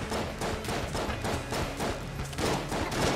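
Dense, continuous game combat in Enter the Gungeon: rapid overlapping gunfire and thumping explosions fill the whole stretch, loud and busy without a break.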